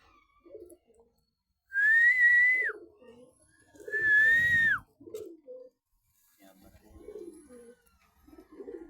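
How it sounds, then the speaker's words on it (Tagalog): Pigeons, including a giant pigeon, coo near the listener: two long, loud warbling whistled coos, then softer low burbling calls, with some quiet talk between them. "Ito mga kalapatids oh."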